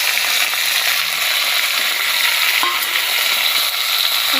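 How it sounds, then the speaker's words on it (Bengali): Chicken meat sizzling in hot oil, a steady broadband frying hiss that stays loud and close throughout, with faint occasional clicks and no voices. "তো এই যে দেখো যে মাংসটা ছিল সেই মাংসটা তেলের মধ্যে দিয়ে দিলাম।"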